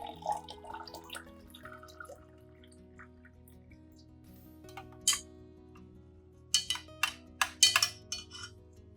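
Dry rice grains tip into room temperature water for soaking, heard as a cluster of small, close ticking and clinking hits under soft background music.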